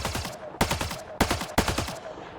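Gunfire from a weapon in Mass Effect Andromeda, fired from behind cover: four sharp, loud bursts about half a second apart, each trailing a rapid rattling decay, with quieter gaps between them.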